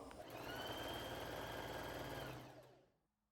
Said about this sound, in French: je vous invite à retourner sur votre machine à coudre et puis vous allez coudre à 9 mm du bord